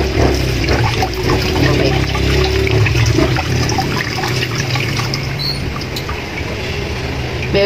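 Tap water runs steadily while pork pata is washed, a continuous splashing rush with faint trickles and handling noises throughout, and a brief spoken word partway through.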